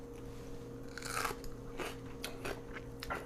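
Crisp crunching bites of sauerkraut, several irregular crunches up close over a quiet background, with no talking.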